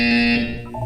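A buzzer sounds in the video game Portal 2: a loud, steady electronic tone that holds briefly and then fades, with no speech.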